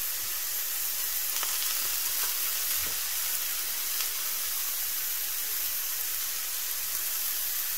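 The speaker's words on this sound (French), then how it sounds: "Et je retourne le steak." A steak fries in a pan with a constant loud, close sizzling hiss that holds steady throughout, with a few faint clinks under it and no speech.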